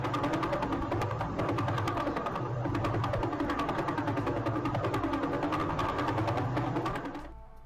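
A fast, steady train of sharp electronic pulses from sonified neutron star pulsar radio emissions, frequency-shifted to be audible, buzzing and mechanical like a machine running, continuing loudly before cutting off at the end.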